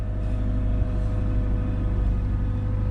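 A Turbo Woody Wagon's engine idles steadily just after firing up, a continuous low rumble with a constant hum and no breaks.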